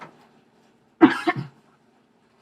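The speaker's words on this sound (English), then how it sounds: "Now I have to cough." A single short, close cough, a quick rough burst with a brief second rasp, surrounded by near silence.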